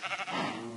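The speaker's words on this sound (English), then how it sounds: "Max, I think it might be the gray sheep outside." A sheep in Minecraft bleats in a single short, wavering call that fills the brief moment, loud and close with no talking.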